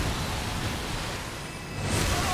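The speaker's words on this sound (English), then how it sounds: "I knew that spray was coming." A creature in Elden Ring unleashes a spray attack, heard as a steady, broad hissing rush that holds across the moment and swells again near the end.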